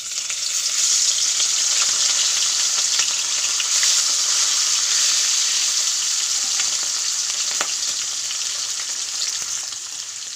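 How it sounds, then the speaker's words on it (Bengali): Fish frying in hot oil in a home kitchen, a steady, loud, bright sizzle and crackle that holds evenly throughout with a few sharper pops, no voices. "তেল গরম হয়ে গেছে মাছটা দিয়ে দেবো"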